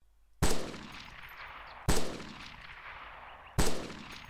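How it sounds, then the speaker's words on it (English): Three single assault rifle shots ring out in the ArmA 2 Operation Arrowhead video game, evenly spaced about a second and a half apart, each a sharp loud crack with a trailing echo. "it just sounds like a regular assault rifle"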